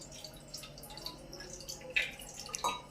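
Water is poured during a Ganesh Chaturthi home worship. A few light drips land over a quiet background, with two clearer drops near the end.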